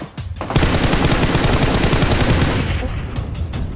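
Rapid bursts of automatic gunfire in PUBG Mobile, loud and close, rattling continuously for several seconds before easing slightly toward the end.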